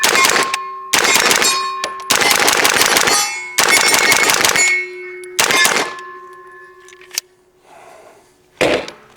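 A PSA Jakl 9 firing 124-grain CCI Blazer brass rounds: several sharp, loud gunshots at close range in an irregular sequence, each with a ringing metallic tail, then a pause and one last shot.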